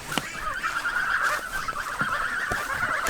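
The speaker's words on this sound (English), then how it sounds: "The geese are all here" A flock of farm geese honks close by, a dense overlapping chorus of harsh, nasal calls that runs continuously with a few sharper cries poking through.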